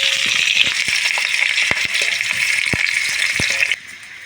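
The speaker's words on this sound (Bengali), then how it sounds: "এই আলুগুলো আমি লাল লাল করে ভেজে নেব।" Whole potatoes fry in hot oil in a wok for a Bengali mutton curry, making a dense, close sizzle with sharp clinks and taps throughout; the sizzle drops away abruptly near the end.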